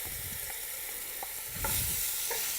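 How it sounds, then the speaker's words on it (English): Steady loud sizzling of lamb dropped into a hot pan for stir fry, with a few stirring scrapes and a surge of hiss partway through. "It should make a big old sizzle."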